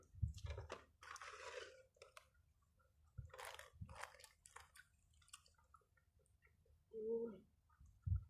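Close, crisp chewing of crunchy kimchi with a few crunchy bites spread across the clip, then a brief low hum near the end; no talking.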